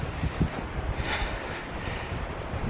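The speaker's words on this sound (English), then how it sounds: "I'm sorry if it's windy." Gusty wind buffeting a microphone, low rumbling thumps and rushing noise close up, with no voices.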